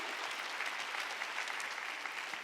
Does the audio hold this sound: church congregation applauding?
yes